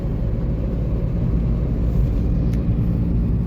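A car driving along a road after being shifted up through the gears, with a steady low engine and road rumble filling the interior, continuous and close, with no voices.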